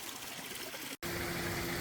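River water flowing at the second river of Bouyouni in Mayotte, a steady close broadband rush that continues on both sides of an abrupt cut midway, with no talking.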